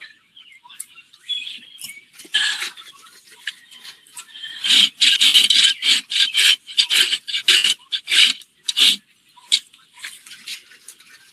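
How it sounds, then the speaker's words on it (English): A farrier's rasp files a horse's hoof with close, scratchy strokes, starting sparse and then settling into a quick, steady rhythm of rough back-and-forth scrapes, with no talking. "You want to be able to rasp all of this except for the heel buttress right here."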